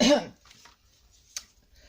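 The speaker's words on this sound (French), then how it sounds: "Pardon, je tousse." A single short cough at the start, followed by quiet room tone and a faint click.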